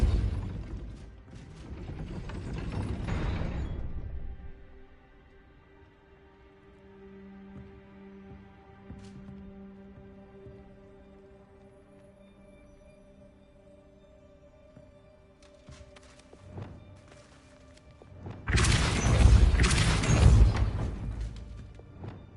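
A Depulso spell cast in Hogwarts Legacy raises a gate: a loud whooshing, crashing burst of force at the start, a long low mechanical grinding and rumbling as the gate lifts, then a second heavy crashing impact at the end.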